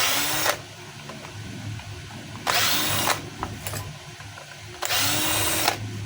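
A power tool backs a screw out of a DeWalt D25033 rotary hammer, with three loud, close bursts of whirring, each lasting about a second, separated by quieter handling noise.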